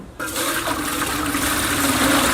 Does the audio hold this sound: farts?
no